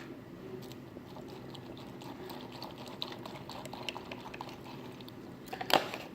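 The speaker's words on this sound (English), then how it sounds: "now to pour the milk" Soft, steady trickle of milk pouring into a bowl of Oreo O's cereal, fairly close and quiet, with faint crackles and a small clink near the end.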